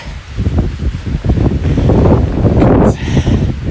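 Strong wind buffets the microphone on a mountaintop near Bozeman, Montana, a loud, continuous gusty roar with rumbling surges and no clear talk.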